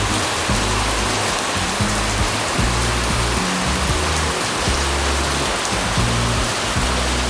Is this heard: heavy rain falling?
yes